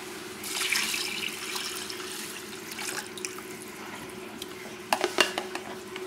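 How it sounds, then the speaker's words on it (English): Water is poured from a measuring cup into a cooking pot for brown rice with lentils. A steady splashing pour runs under a faint kitchen hum, and a few sharp clinks of the cup against the pot come near the end. "we're going to put in there 5 cups of water"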